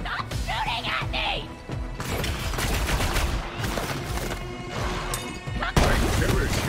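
Dense gunfire in the shooter game Borderlands 3, with sustained loud automatic bursts and heavy impacts and crashes filling the whole stretch, layered with faint game voices.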